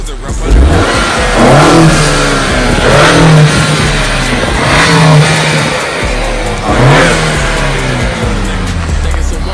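A 2022 Honda Accord fitted with a K&N drop-in air filter revs hard several times in a row, each loud, close surge rising and falling, while people talk over it.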